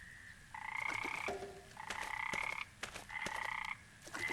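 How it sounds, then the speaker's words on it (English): Frogs croak in a pond inside the video game Memoranda, a near, steady chorus in repeated bursts roughly a second long with short gaps between them, and no talk. "I always loved going to bed and hearing frogs sing in the pond"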